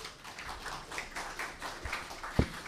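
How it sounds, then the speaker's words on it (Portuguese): Sparse, steady applause from a small audience at a Brazilian parliamentary committee hearing on vehicle licensing as an invited federation president is called to the panel. The claps are soft and spread out, with faint room murmur underneath. "para quem eu peço uma salva de palmas"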